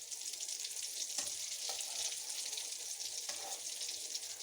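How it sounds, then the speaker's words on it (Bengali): Eggs fry in a pan with a steady, bright sizzle, broken by a few soft stirring scrapes, close and continuous throughout. "এটা ডিমগুলো ভাজাটা ভালো হবে"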